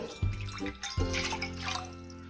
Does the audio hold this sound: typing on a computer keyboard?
no